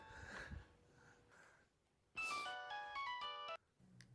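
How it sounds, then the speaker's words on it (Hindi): A telephone rings in a quiet room in a comedy drama scene, a faint muffled trill first, then a louder burst of electronic ringtone tones, with some breathing or sniffing noises between. "बेल हो रही है, कोई फोन नहीं उठा रहा।"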